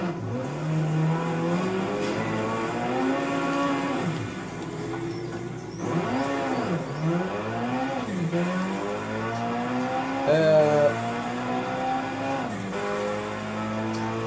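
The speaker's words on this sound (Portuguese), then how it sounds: "eu acelerei demais" A car in a PS3 racing video game accelerates hard, its engine climbing and dropping through repeated gear-change sweeps, with a brief tire squeal near the end, loud and steady throughout.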